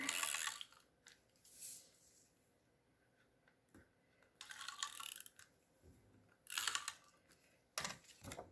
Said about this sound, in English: I'm just going to take my tape runner